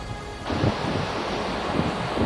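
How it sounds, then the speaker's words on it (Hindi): Canal water rushes loudly and continuously on a mountain road between Kalpa and Nako, a broad roaring wash that swells suddenly after a brief quieter opening and stays steady, close and dominant. "वो नहर का पानी जो है बहुत तेज़ आवाज़ कर रहा है"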